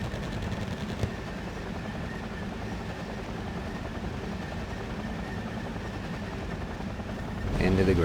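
A constant heavy rumble of helicopter rotors and engine fills the scene amid tank battle noise in a video game, steady throughout with a louder swell at the end.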